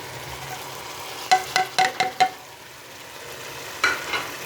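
A spoon stirs powdered spices into chana dal cooking in a pan. Five quick scraping strokes come close together, then a pause, then two more. The dal sizzles softly underneath and no one speaks.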